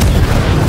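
Incendio fire spell in Hogwarts Legacy, a loud, dense, rumbling blast that fills the whole short moment with low booming roar and crackle, no voices over it.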